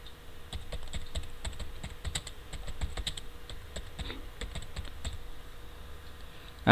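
Rapid clicking of keys on a computer keyboard as a short message is typed, a steady run of close, crisp keystrokes with no talking.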